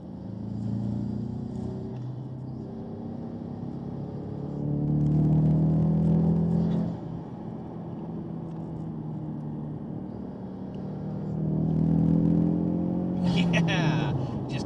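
A COBB stage 3 tuned Ford EcoBoost Mustang accelerates hard, its engine note rising in two loud surges with a steady lower drone between them, heard from inside the car.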